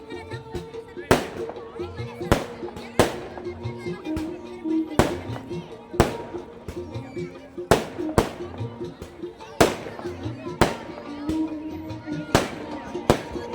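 Fireworks go off at a new year celebration at Fateh Sagar lake, a series of sharp, loud bangs spaced a second or two apart, some crackling afterward, with a crowd and voices murmuring between bursts.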